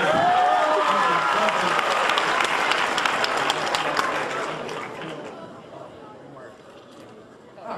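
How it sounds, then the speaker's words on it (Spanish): Applause and cheering from a fan crowd at a Q&A fan event in Barcelona, loud and dense at first, then thinning and fading toward the end, with some crowd chatter mixed in. "Un aplauso para reconfortarlo."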